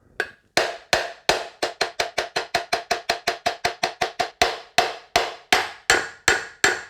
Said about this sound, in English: you can start to hit it a bit harder.